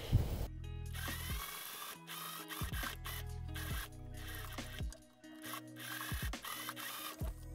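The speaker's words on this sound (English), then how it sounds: "I'm just gonna match up the underarm seam and sew these together" A sewing machine stitches the underarm seam of a top made from beaded fabric. Short mechanical whirring runs of stitching repeat in bursts with quiet pauses between them, close and fairly soft, with no talking.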